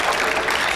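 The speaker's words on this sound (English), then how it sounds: "His good friend Tora Torgerson applauding that one." Spectators applaud at the 2001 Weber Cup bowling match as Team Europe wins, a dense, steady patter of clapping that holds evenly throughout, moderately loud with no talk over it.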